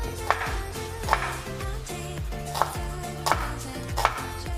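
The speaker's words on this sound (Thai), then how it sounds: "หั่นเป็นชิ้นๆนะครับ" A knife chops red shallots on a cutting board in about five crisp, evenly spaced strikes, close and clear with a slight ringing after each hit.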